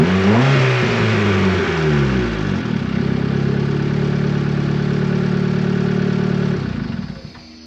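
Turbocharged Honda Civic engine revving briefly at startup, then settling into a steady, close, loud idle while warming up, with a light clatter before it cuts off at the end.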